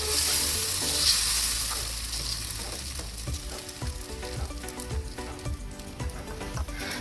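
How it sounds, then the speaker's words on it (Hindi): Green-gram dosa batter spread thinly across a hot griddle crackles with a busy sizzle, punctuated by soft taps and scrapes as it is swirled out from the centre. The frying stays close and moderately loud for the whole stretch. "और फिर से डालेंगे बैटर, देखो, और सेंटर में इस तरह से हल्के हाथों से चलाते हुए इसको फैला देंगे।"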